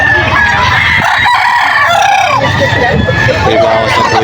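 At the busy Bocaue poultry market in Bulacan, a stag rooster crows loud and close, with further crowing and clucking from surrounding fowl layered over a dense market background.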